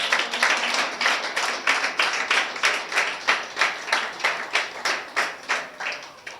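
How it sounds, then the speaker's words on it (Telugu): A church congregation claps in unison, a strong, even beat of sharp hand claps about three per second, loud and close, with no talking over it. "కొట్టో చప్పట్లో మళ్ళీ ఒకసారి."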